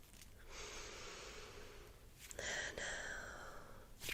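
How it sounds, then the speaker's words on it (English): A long, close breath drawn in, a pause, then a second deep inhalation that starts sharper and stronger. "take a nice deep breath in"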